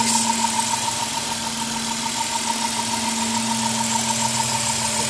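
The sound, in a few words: V6 car engine idling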